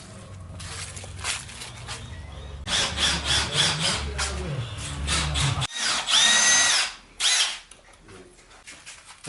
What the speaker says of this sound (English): We are screwing these plates on.